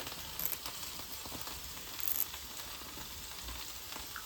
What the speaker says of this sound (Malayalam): ഞാനിതിൽ 2 കറിവേപ്പില അങ്ങോട്ട് ഇട്ട് കൊടുക്കുവാണ്